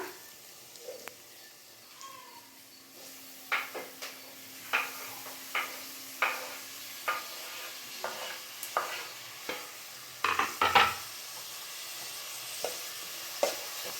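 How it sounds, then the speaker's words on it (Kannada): Chopped tomatoes frying in hot oil in a pan, a soft steady sizzle broken by a string of sharp scraping stirs and clinks at irregular intervals, no voices. "ಟೊಮೆಟೊ ಸಾಫ್ಟ್ ಆಗೋ ತನಕ ಎಣ್ಣೆನಲ್ಲಿ ಇದೇ ರೀತಿ ಫ್ರೈ ಮಾಡ್ಕೊಂಬಿಡೋಣ"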